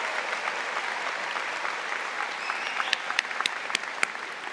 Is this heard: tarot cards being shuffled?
no